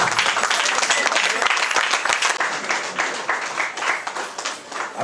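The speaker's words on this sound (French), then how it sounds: "Accueillez la future mariée, tous vos applaudissements s'il vous plaît." Wedding guests at a ceremony in Pointe-Noire applaud the bride-to-be with loud, dense clapping that holds steady throughout, slightly easing midway, with crowd voices and some talking underneath.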